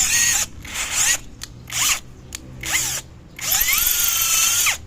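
A 6.5 mm bit drills out a crank thread, the power drill whining in several bursts of a second or so with brief pauses between.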